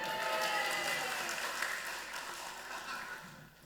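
An audience at a campus event claps and cheers in a continuous burst that slowly fades, ending in a sharp knock.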